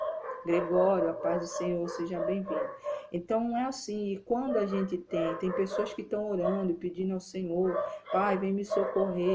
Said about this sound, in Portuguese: perdão pelo barulho dos cachorros